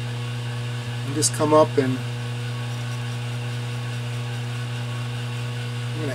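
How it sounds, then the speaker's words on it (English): A metal lathe turning slowly while machining the head of a carriage stop clamp bolt, giving a steady low mechanical hum throughout; someone speaks briefly over it. "So let's turn the lathe on. We're going to run this pretty slow so we don't get a lot of chatter."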